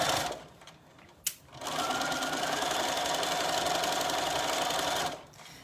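A domestic sewing machine runs steadily for about three seconds, stitching a summer skirt seam with an elasticated waistband, with a brief click before it starts and quieter handling noise around the burst.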